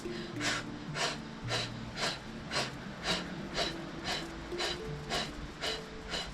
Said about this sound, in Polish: Oddychaj w taki sposób, tak jakbyśmy chcieli wydmuchać.